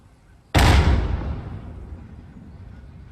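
A No. 247 All-Ways Fuze shell detonating and destroying a vehicle: one sudden loud blast followed by a long rumbling decay that fades over a few seconds.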